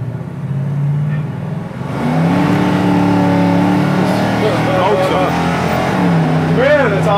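A 1969 Camaro engine pulls under acceleration while driving, its tone climbing in steady loud rises, with cabin noise and people talking over the roar.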